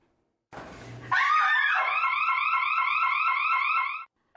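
In an empty women's restroom, a short, sharp scream cuts in, then a scream-triggered safety alarm sounds a loud pulsing siren repeatedly for several seconds before stopping abruptly.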